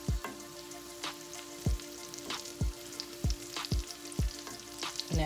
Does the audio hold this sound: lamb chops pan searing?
yes